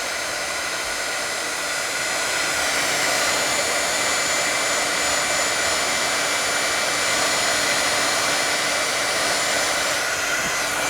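Hair dryer blowing steadily at close range over painted art background paper, a loud continuous whoosh with a faint whine that holds level for the whole stretch, no voices.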